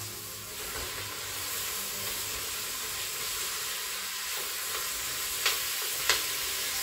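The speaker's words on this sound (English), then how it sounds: "give that a good stir until the beef has gone brown" Minced beef frying in a pot for goulash, a soft continuous hiss and sizzle with faint stirring scrapes and two small knocks near the end.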